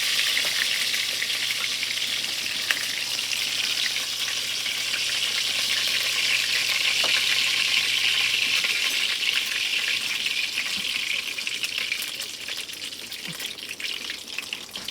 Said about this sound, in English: we're gonna put our vegetables in, our onions and green peppers. Get them going